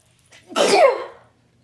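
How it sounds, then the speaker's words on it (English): One loud, close sneeze with a quick intake of breath before a sharp burst that trails off. "That was a heck of a sneeze."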